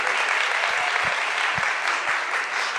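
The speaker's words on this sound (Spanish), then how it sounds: "Muchas gracias por sus aplausos." An audience at an academic lecture applauds to welcome a speaker, producing dense, continuous clapping at a steady level with a few low thumps scattered through it.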